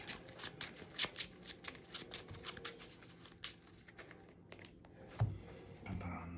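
A deck of trading cards riffled and bridged in a card game, a quick run of crisp flutters and snaps repeated over several seconds, close up with a louder clack near the end.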